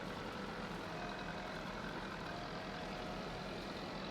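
In Farming Simulator 22, an underpowered 85 horsepower tractor labors to pull a forage wagon, a constant low, hissy engine drone with no breaks or rises, quiet and continuous, with no voices over it.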